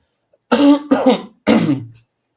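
Three harsh, close coughs from a man with a cold, the first two in quick succession and the third after a short pause, with silence on either side.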